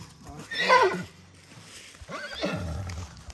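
A horse neighs twice, a loud shrill whinny followed by a second lower, rougher call, close by on a farm where a foal is expected.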